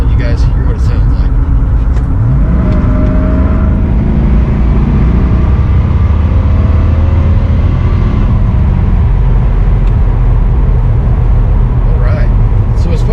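A car fitted with a Walker Tru-Fit universal muffler cruises a straight stretch on a cold, windy day, giving a steady, loud, dense engine and road rumble with only a subdued exhaust note.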